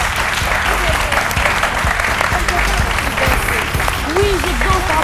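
A studio audience on a TV midday show claps steadily and loudly, with music and voices mixed in under the applause.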